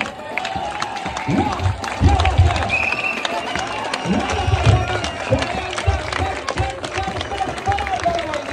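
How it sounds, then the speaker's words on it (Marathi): A crowd at a Dahi Handi event in Ghansoli, Navi Mumbai, applauds a Govinda troupe's six-tier human pyramid. Scattered clapping and cheering swell in waves over a busy outdoor din of voices. "6 थरांची यशस्वी सलामी यांचा जोरदार टाळ्या झाला पाहिजे"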